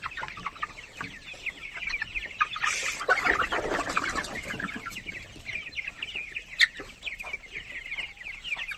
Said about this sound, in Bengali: পুরো ছাদে মুরগি আছে আলহামদুলিল্লাহ।